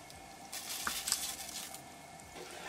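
Cumin seeds go into melted butter and olive oil in a pan, giving a soft close sizzle that swells briefly with light crackles before settling.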